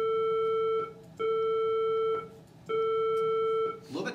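Middle A at 440 Hz with four added overtones at whole-number multiples, sounded as three separate steady tones with short gaps between, slightly buzzy and bright; a brief noise follows at the end.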